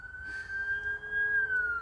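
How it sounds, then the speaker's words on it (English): An emergency vehicle siren wails outside, a single steady tone that slowly falls in pitch and holds at a moderate distance over faint background rumble. "there goes the sirens"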